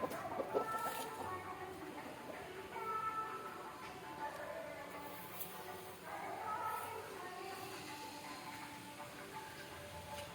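A broody country hen that has been sitting on eggs for about two weeks clucks softly and intermittently, fairly faint against low background noise.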